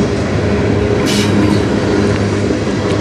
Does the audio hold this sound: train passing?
yes